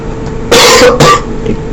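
Two harsh, close coughs come in quick succession, loud and short, against a quiet background.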